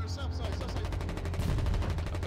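Artillery in the Foxhole war game firing max-range shells, a dense barrage of heavy booms and rapid bursts rolling continuously, loud and close, with voices underneath.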